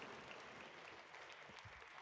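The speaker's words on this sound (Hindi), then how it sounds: "आपकी जोरदार तालियां बजती रहनी चाहिए।" Audience applause at a felicitation ceremony, with bouquets and shawls presented to guests, comes as a brief, faint, continuous patter of clapping heard from a distance.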